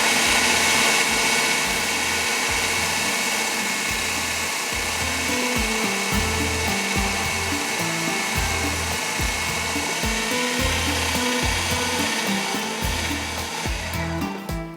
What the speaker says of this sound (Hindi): सुपर एशिया का हमारे पास है चॉपर। इसके अंदर हमने सारे अज्जा डाले। अब हम क्या करेंगे, इसको हम यहाँ पर पीस लेंगे।